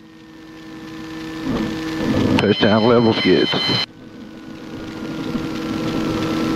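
A helicopter engine idles with a steady tonal hum during a practice full-down autorotation. An instructor and student talk over it, and a loud warning-horn-like tone sounds for about a second and a half midway.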